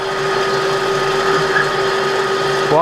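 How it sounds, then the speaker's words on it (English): Metal lathe facing a steel locking bar for a folding shovel, coolant running; a steady mechanical whine with a strong sustained tone and a faint rising squeal near the end, continuous and close, no speech. "Turn our lathe on."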